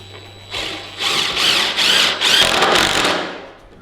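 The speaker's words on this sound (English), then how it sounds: "then we'll go ahead and use our impact driver" A cordless impact driver sinks 3-inch screws into wood while building a home power rack, giving several loud, close bursts of rapid hammering buzz in quick succession with no talking.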